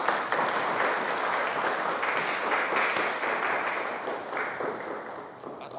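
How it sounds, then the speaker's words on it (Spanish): A church congregation applauds graduates at a Pentecost Eucharist service, a steady, dense wash of many hands clapping that holds evenly for several seconds before easing slightly near the end. "creo que se merecen un aplauso"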